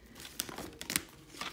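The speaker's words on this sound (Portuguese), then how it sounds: "Essas cartas são muito grandes, muito complicadas de embaralhar." Large angel oracle cards being shuffled by hand, a close series of papery riffles, slides and crinkles in uneven bursts, with no voices.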